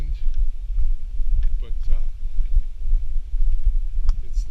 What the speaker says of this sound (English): Nice and windy up here.